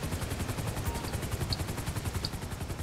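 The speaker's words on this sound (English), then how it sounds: "Now we can both get in the helicopter together." A helicopter in GTA V with the LSPDFR police mod, heard from close by: its rotor thumps in an even, rapid rhythm over a steady engine whine, loud and continuous, with no voices.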